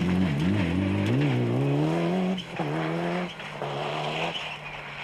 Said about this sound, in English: pristine white Toyota Celica GT4. All whistling turbos and whining diffs